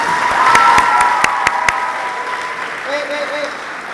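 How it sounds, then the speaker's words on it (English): Audience applause for award recipients at a middle school eighth-grade awards ceremony, a steady wash of clapping with a few sharp claps standing out, then fading as a voice speaks faintly near the end. "Round of applause for our recipients."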